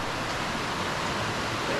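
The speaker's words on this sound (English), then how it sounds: "Oh, can you hear the river? Wow, so that's a lot of water." A river in mountain country near Kakopetria village, running full in summer, as a loud continuous rushing wash of water, close and steady with no other sounds.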